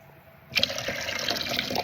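Warm water meant for a bantam hen starts running abruptly partway through, a close, steady splashing rush like a tap filling a basin, continuing without pause and with no talking.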